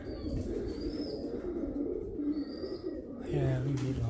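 Low pigeon coos come from the roof of an old bromine plant under a voice. The calls run steadily throughout and grow louder near the end.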